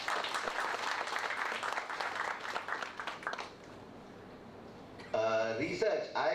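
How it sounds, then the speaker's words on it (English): An audience at an inauguration ceremony breaks into dense, sustained applause that fades out after a few seconds, followed by a voice speaking. "I will request all of you to please give him a big applause."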